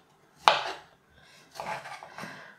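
Knife slicing mushrooms on a board, one sharp cut followed by two softer slicing strokes, close and brief with no talk.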